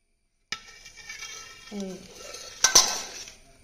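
Marinated chicken tipped into a pressure cooker for Kerala chicken curry, with soft clinks and metal scrapes and a brief loud clatter of pot and utensil near the end, close up and without talk.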